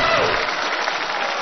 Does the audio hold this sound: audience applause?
yes